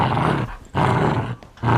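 A dog gives rough, loud growling roars in three close bursts separated by brief pauses, with no speech.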